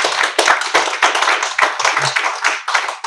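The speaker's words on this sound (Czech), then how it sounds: "až mě zatleskáte." A small audience at a programming meetup talk claps, with distinct individual hand claps in an uneven, sparse patter rather than a dense roar, close and fairly loud.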